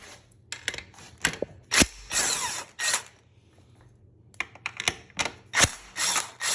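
A ratchet wrench loosens the polyurethane handlebar bushing bolts on a 2014-2020 Harley-Davidson Street Glide or Ultra Classic, in close, loud bursts of rapid clicking separated by short pauses.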